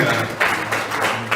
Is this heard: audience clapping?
yes